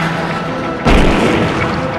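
A giant 8.2 m, 19-ton bombard-style cannon that fires carved stone balls lets off a single sudden loud boom, and a deep rumble trails after it.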